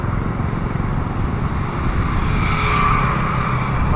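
Road traffic noise with a steady engine rumble and tire hiss along a Haryana highway near Kurukshetra, where tractors haul vehicles between towns; a continuous loud drone with a swelling pass near the end, no talk.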